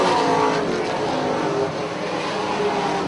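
Racing trucks at Punta Gorda Speedway roar in a loud, continuous engine drone, the pack passing close during a short-track race.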